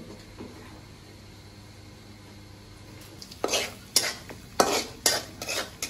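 Washed meat stirred into a pot with chili, turmeric, garlic and ginger: after a quiet stretch with faint background hum, a handful of loud close scrapes and clanks of a utensil against the pot arrive in uneven bursts.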